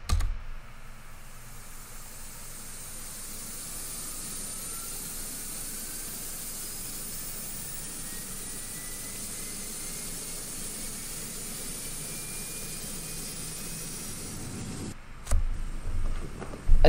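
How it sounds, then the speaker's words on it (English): A steady, loud airliner jet engine spooling up in the GeoFS flight simulator game, with a broad rushing hiss and a faint whine that rises slowly in pitch. The roar holds throughout before a brief clatter near the end. "I'm gonna turn the engine on."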